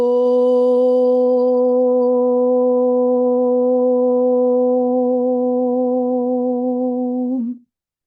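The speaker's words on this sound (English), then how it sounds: "Sound the Om with me." A single sustained low tone, a group chanting Om, is held steadily for about seven seconds, warm and resonant, then stops abruptly.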